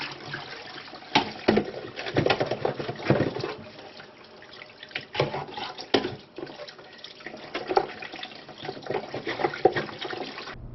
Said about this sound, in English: Now we're going to go ahead and wash our dishes.